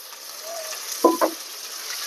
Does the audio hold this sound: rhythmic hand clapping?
no